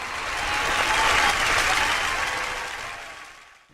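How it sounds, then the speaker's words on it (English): An audience applauds after a stage performance, a dense burst of clapping that swells, holds for a couple of seconds, then fades away. "give one more round of applause for Anthony Fremont"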